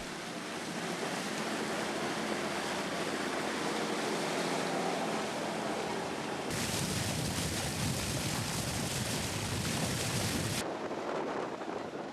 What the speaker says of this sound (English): The waves are rougher than I thought.